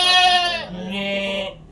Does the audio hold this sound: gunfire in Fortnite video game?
no